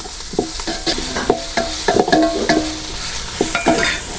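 Ash gourd, ginger, green chili and garlic fry with softened onions in a pan, giving a steady sizzle broken by repeated scraping stirs of a spoon.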